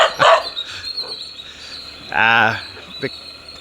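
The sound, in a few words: dog barking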